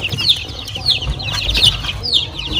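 Orpington chicks and chickens on a poultry farm clucking and peeping repeatedly at close range over a steady background, with faint wing rustling.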